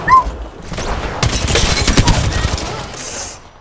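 Shotgun fire in an Apex Legends squad fight, a dense burst of loud overlapping blasts and mechanical clatter packed into a few seconds.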